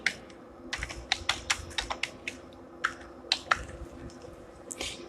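Rapid typing on a computer keyboard, clusters of light clicking keystrokes in uneven bursts with short pauses, close and fairly quiet with no talking.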